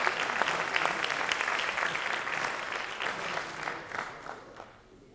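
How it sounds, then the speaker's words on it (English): Audience clapping at a meeting, honoring a national champion drill team, a steady wash of applause that gradually thins and fades toward the end. "Give a big round of applause to our group here."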